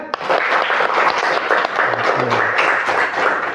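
A classroom of Islamic religious education students at an elementary school applauds a group presentation, with dense, steady clapping throughout and faint voices mixed in.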